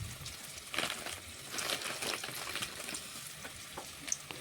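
Onion frying in oil in a pan, a continuous crackling sizzle with scattered pops, moderately close and steady without any talk.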